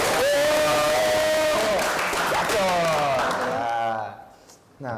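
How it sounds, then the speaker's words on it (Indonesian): Audience applause and cheering fill a student podcast gathering celebrating a school competition win, loud and sustained with voices talking and whooping over the clapping before it fades out near the end. "Tepuk tangan dulu lagi dong."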